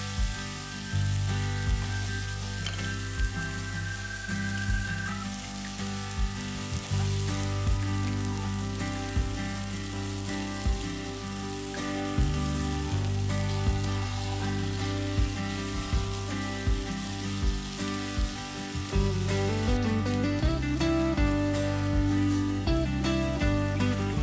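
Food grilling in a pan sizzles in a steady, crackling hiss that runs without a break, with music playing underneath.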